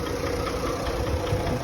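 A Toyota Land Cruiser fitted with an aftermarket push-button start idles steadily at low volume, a continuous even engine hum with no other sounds.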